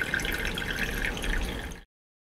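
Cloudy, dirty water poured carefully through a wire mesh screen with roughly 2 mm openings, a steady splashing pour lasting under two seconds and stopping abruptly, close and fairly loud with no talking.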